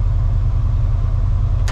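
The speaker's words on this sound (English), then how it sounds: "Hopefully you can hear the defrost" A steady low rumbling whoosh of a 1979 Ford F150 heater and defrost blower running, constant and fairly loud throughout, with no voices.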